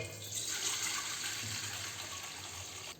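Rice washing water pours steadily into a cooking pot for sweet pongal, a continuous soft hiss of liquid lasting the whole stretch at a low level with no talk.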